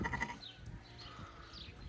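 A newborn lamb and its ewe bleat quietly on a farm, with a few brief, faint cries near the start against low background noise.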